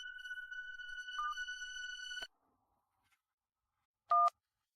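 A telephone is dialed: a long steady tone with a quick change, then silence and one short loud keypad beep.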